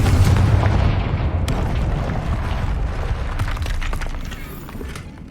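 A Confringo fire-blast spell explosion in Hogwarts Legacy, a loud deep boom that rumbles on and slowly fades, with crackles and impacts scattered through the decay.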